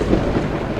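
A thunderstorm in Project Zomboid rumbles in a loud, low, continuous roll of thunder with rain hissing beneath it, brief and unbroken.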